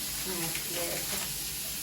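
A brief, steady hiss of food frying in a pan, with someone talking over it.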